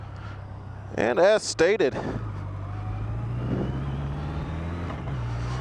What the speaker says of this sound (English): Let's take a ride around with it in the back real quick.